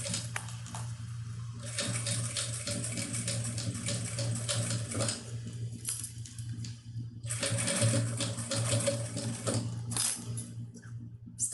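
A sewing machine runs in long continuous bursts, with a brief pause between, as it stitches piping onto a simple fabric case; the mechanical whir stays fairly quiet and close, and no one speaks.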